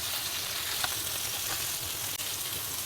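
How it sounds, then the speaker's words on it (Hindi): Chicken sizzles steadily as it fries in a pan for malai tikka pulao, a dense, even crackle of hot oil held at a constant level throughout, with no voices. "चिकन कितना अच्छे से फ्राई हो चुका है"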